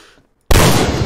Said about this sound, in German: so schöne Schüsse gerade